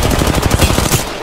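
Loud, close automatic weapon fire in the battle game Apex Legends, a fast unbroken stream of sharp shots.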